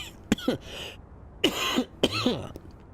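Several close, sharp coughs in small bursts, with quiet pauses between them and no talking.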